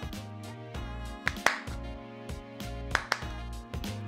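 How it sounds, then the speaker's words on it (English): Two quick pairs of hand claps, each pair made between tossing and catching a ball while juggling, ring out sharply over steady background music with no talking. "you can try and do two claps."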